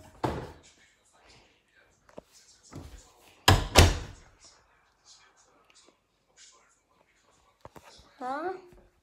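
An indoor door is handled at the start of a room tour, with a couple of knocking thuds and a sharp bang partway through, heard between bits of nearby talk.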